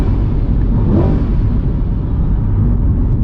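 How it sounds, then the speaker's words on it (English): A Chevrolet Corvette C8 is revved in place with both shift paddles pulled, giving a steady, loud, close engine rumble with a slight swell near the start and no one talking. "you can pull in both paddles and you can rev the car"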